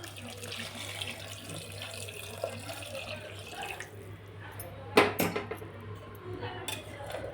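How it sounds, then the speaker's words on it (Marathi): Hot water pours into a pan of frying stuffed brinjals in a home kitchen, a steady running, splashing wash over a low hum, ending in a few sharp clinks and sizzling bursts. "वांगे मस्त फ्राय झालेले तर त्याच्यात गरम पाणी टाकून घेऊ"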